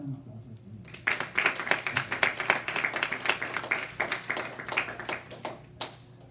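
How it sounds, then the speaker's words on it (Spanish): A church congregation breaks into applause during a sermon, scattered sharp hand claps building into a lively, uneven round that rises and then thins out, fairly close with a murmur of voices underneath. "¿Cuánto le damos un aplauso al Señor?"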